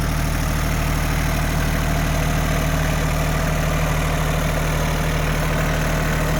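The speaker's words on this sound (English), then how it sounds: "diesel tractor, 4-wheel drive with a front end loader." A Kioti LK3054 diesel four-wheel-drive tractor with a front-end loader idles in a loud, close, steady rumble with an even low throb and no pauses or voices.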